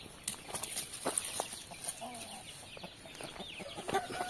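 Young chickens clucking in a farm setting, a series of soft chirping clucks and calls scattered irregularly across the stretch, fairly quiet and close with faint background noise.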